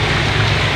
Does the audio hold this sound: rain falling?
yes